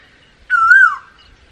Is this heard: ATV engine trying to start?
no